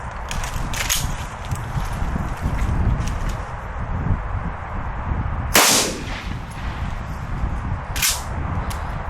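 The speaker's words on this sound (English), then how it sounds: "we've got the power test, and it's BB using Tom's Mossberg 500" Two sharp, loud blasts from a Mossberg 500 shotgun firing BB cartridges outdoors, the first near the middle and the second shortly after, over steady rustling background noise.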